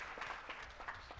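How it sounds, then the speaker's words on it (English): Audience applause at a hospital presentation, a steady wash of many hands clapping at moderate distance, with no voices over it. "Let's applaud for Denise"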